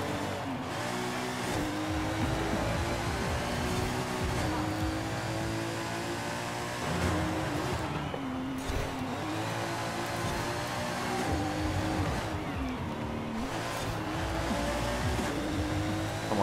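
Jaguar XKR-S GT engine in Forza Horizon 5, a loud continuous race-car roar with shifting pitch as it revs and accelerates, steady and close throughout with no talking.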